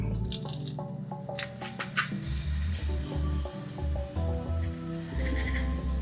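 Minced garlic dropped into a hot pan with cooked-down onion, crackling and sizzling with wet squishy pops over a few seconds, close and fairly loud.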